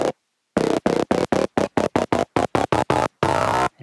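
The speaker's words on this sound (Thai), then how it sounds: "พอเราเข้าไปในโหมดสเกลเนี่ยเสียงซาวด์เบสเนี่ยก็จะไล่ไปตัวโน้ตให้เรา" Pioneer Toraiz SP-16 sampler playing a one-shot bass sound in scale mode, stepping through about a dozen short, evenly spaced notes in quick succession, ending on a longer held note, loud and clean with no talking.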